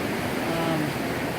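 North Yuba River water rushing past, a broad continuous roar of flow with some wind noise on the microphone, steady and fairly loud.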